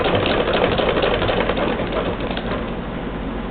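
A sewing machine stitching a strap into the bottom of a backpack made from old jeans, giving a loud, close, continuous mechanical whir with no breaks.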